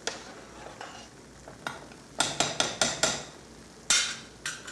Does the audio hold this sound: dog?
no